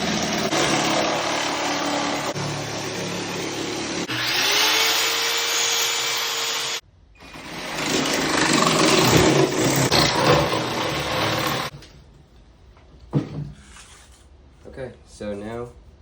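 A tool cuts out a traditional wood design in loud whirring bursts, cutting off abruptly near the middle and resuming before fading into quieter handling and clatter.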